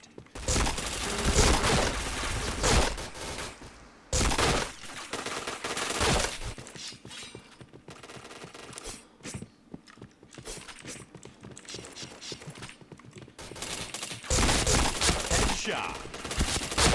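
Rapid bursts of automatic gunfire from the shooter game PointBlank come in loud clusters separated by quieter gaps across the stretch.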